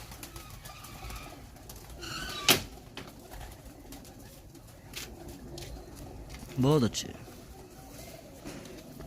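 Antique breeder pigeons coo nearby in Faisalabad, one soft throaty coo rising clearly after an earlier sharp sound, while someone speaks over a busy background.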